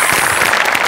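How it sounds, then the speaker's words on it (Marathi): A studio audience claps loudly for the art department at a comedy show, a dense, continuous wash of applause that holds steady for under a second. "सगळ्यात आधी आर्ट डिपार्टमेंटसाठी आपण सगळे जोरदार टाळ्या वाजवूया"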